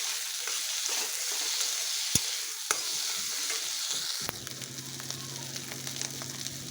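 Peas and potato sizzle in a pan while being stirred, a continuous close frying hiss with occasional scrape clicks, shifting to a lower, busier tone in the last couple of seconds, with no talking.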